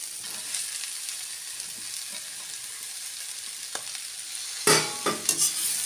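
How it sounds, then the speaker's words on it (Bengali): Cabbage with peas and other vegetables being stir-fried in a wok for khichuri, a steady soft sizzle with scraping stirs, then a few louder clattering stirs near the end, close and without speech. "বাঁধাকপি দিয়ে একটু নেড়ে নেব।"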